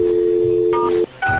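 Telephone tones for a prank call on a radio show: a steady dial tone, then quick touch-tone dialing beeps with a brief gap between them, loud and close.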